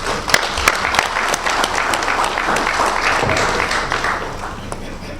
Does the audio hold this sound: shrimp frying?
no